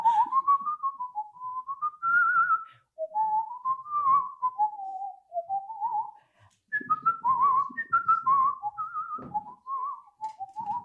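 A person whistling a melody live in a quiet room, clear, sustained tones gliding up and down in phrases with brief breaks, close and solo.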